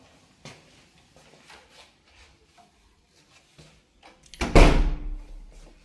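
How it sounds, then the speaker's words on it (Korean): A door of a guesthouse is opened after faint shuffling, giving a loud close thud and rattle with a short ringing tail. "문을 열고 들어갑니다."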